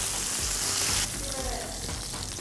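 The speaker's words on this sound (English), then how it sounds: "you're going for a final sear?" Food getting a final sear in a hot pan, a loud bright sizzle that drops to a lower, steady frying hiss after a second.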